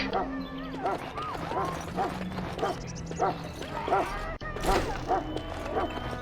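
A dog barks repeatedly in short yaps in the video game Dragon Age: Origins, with voices talking in the background.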